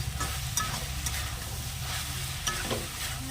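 Boiled banana flower sautéed and stirred in a pan with salt, a steady close sizzle with scraping stir strokes throughout.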